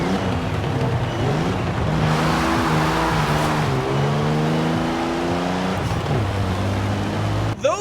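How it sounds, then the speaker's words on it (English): A Toyota 2000GT in Forza Horizon 4 revs hard through repeated engine sweeps with exhaust crackle, the engine note climbing and falling loudly across several gear changes. "Those are pretty good pops and crackles."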